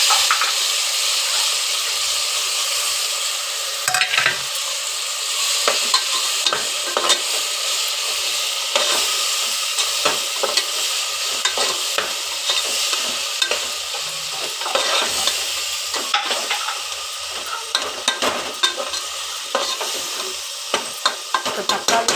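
Onions and freshly added tomatoes sauté in a pan, a loud continuous sizzle with frequent scraping, clattering stirs throughout.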